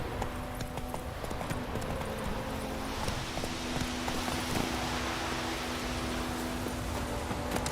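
Roach, the horse in The Witcher 3: Wild Hunt, gallops with steady, rhythmic hoofbeats that run nonstop, close and fairly loud, over a low game ambience.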